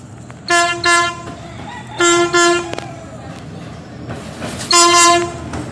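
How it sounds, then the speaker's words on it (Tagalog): A train horn blasts loudly three times in long honks, close by, over the rumble of a passing train. "Laging may view ng tren. Busina siya ng busina."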